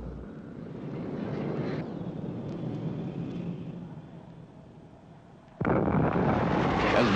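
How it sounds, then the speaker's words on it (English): U.S. Air Force Phantom jets strike a target area with explosions during an Army division maneuver. A sustained rumbling roar of blasts and jet noise continues throughout, then swells sharply louder near the end, with no voices. "The attack upon the maneuver enemy forces began with phantom jets of the U.S. Air Force striking the target area."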